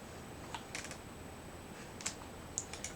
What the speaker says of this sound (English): Oops, I'm pressing the wrong key.